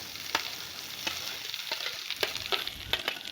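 Chopped potatoes being stirred into a spice tempering in a pan, close sizzling broken by repeated scraping strokes of a spoon at an uneven pace.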